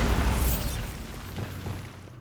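A Bombarda spell explosion in Hogwarts Legacy: a single loud, close blast at the start that rumbles and slowly fades away over the next two seconds.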